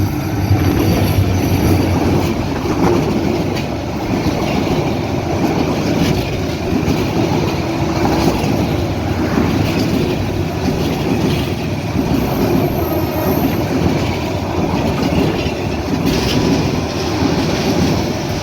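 The Kurigram Express passes through Akkelpur railway station on line two without stopping, rumbling steadily at close range, wheels clattering on the rails in a continuous loud roar with faint metallic squeals, no voices.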